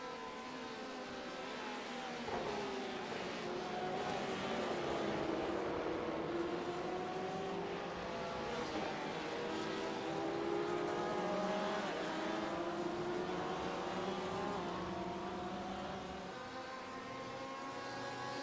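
Porsche RSR and GTE race cars lapping Silverstone in sim racing, engines droning and rising and falling in pitch as several cars pass, steady and loud throughout with no voices.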